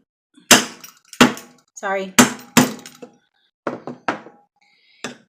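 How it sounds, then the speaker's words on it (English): A steak knife point is struck with a knife sharpener to tap holes, giving sharp, loud knocks at irregular intervals. A person talks briefly between the hits. "a steak knife and a knife sharpener that I'm tapping the holes in"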